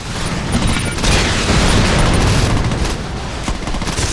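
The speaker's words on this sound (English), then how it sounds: "let's use the bazooka right now" A dense, continuous roar of explosions and gunfire in Saints Row 2 as a bazooka is fired, loud and sustained throughout with no talk.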